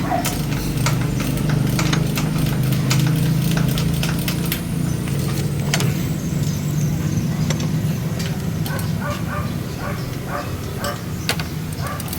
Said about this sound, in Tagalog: Ayan, exhaust lang yung maingay.